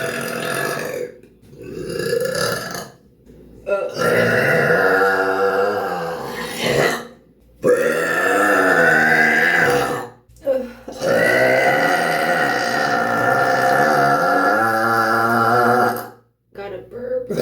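Long, loud, croaking belches from a woman, three or four extended ones with brief pauses between, very close and alone.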